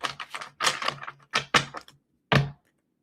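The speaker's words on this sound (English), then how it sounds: "Two more shuffles for Gemini" Tarot cards being shuffled close up, a series of quick riffling, tapping bursts in uneven clusters followed by a short pause and one final shuffle, fairly quiet and without talk.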